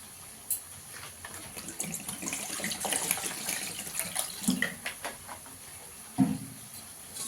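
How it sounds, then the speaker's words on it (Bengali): A little water runs from a tap into a pan of chapila fish curry, a soft pouring wash with a few clinks and splashes. "জল দিয়ে দেবো অল্প করে।"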